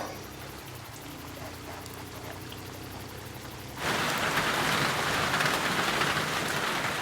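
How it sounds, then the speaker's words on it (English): Heavy tropical rainstorm in the jungle: a steady background that suddenly swells into a loud, dense roar of pouring rain about halfway through, then holds constant. "In the jungle, a full-on tropical storm has kicked in."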